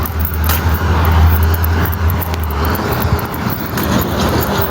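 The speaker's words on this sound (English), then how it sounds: "That's a cool bus." A bus rolls past on a street, a loud, close rumble of engine and road noise that swells and holds for several seconds amid general traffic, with faint clicks and wind on the microphone.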